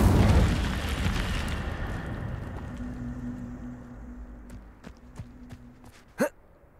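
Incendio fire spell cast in Hogwarts Legacy, heard as a loud burst and fiery whoosh that fades into a lingering rumble, then scattered small crackles and one sharp pop near the end.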